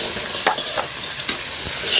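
Ginger garlic paste and salt hit a hot frying pan with a brisk sizzle, broken by a few quick scraping stirs over a couple of seconds.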